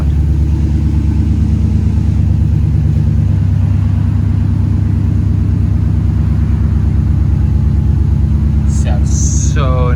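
A modified Subaru Impreza STI hatchback engine idles smoothly and loudly up close, a steady low rumble with a brief faint higher sound near the end.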